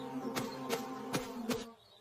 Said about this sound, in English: You will annoy the bees.